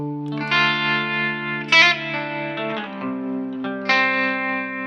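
Electric guitar run through a Walrus Fundamental tremolo pedal at a slow rate and low depth: sustained, ringing chords and single notes that swell gently with a subtle, slow pulsing movement, moderately loud and steady, with no talking.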